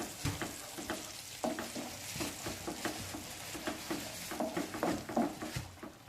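Gravy for a cheese anguri curry sizzling in a pan over high flame as it is stirred, soft frying crackle with repeated scraping strokes of the spoon, close and fairly quiet.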